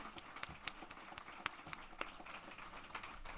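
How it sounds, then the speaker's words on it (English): Audience applause for a panel and speakers at a Massachusetts nonprofit forum, a faint, dense patter of many hands clapping steadily with a few sharper claps standing out. "Please join me in another round of applause for our panel and speakers."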